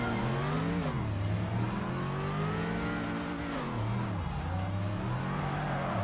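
A racing car in Tokyo Xtreme Racer: Drift 2 oversteers through a drift, its engine droning loud and steady while rising and falling in pitch, with squealing tires layered over the continuous roar.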